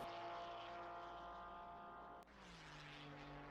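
Sustained engine drone of a naturally aspirated flat-six Porsche race car in a racing video game at Paul Ricard, a steady harmonic tone that briefly dips and then shifts lower, loud and continuous with no talk.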